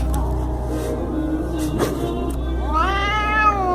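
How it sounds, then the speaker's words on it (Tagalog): A stressed, usually gentle house cat meows and yowls, a loud drawn-out wail with rising and falling pitch near the end, preceded by a quieter low growl-like stretch. "Nai-stress yung pusa siguro."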